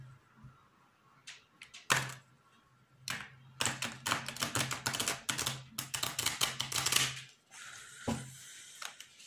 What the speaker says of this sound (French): Je vais tirer 3 cartes aussi sur la roue de fortune.